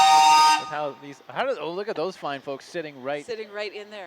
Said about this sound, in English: That's a heck of a steam-powered organ